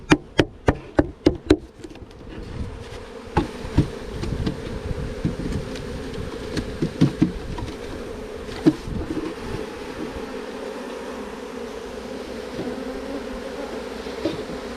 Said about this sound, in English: So these bees can sort themselves out.